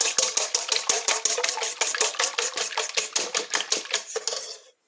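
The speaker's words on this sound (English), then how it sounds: "So in here we will just beat the eggs, guys." Eggs beaten by hand for bread pudding, a fast run of sharp rhythmic clicks and taps of a utensil against a bowl, close and brisk, about four seconds before stopping abruptly.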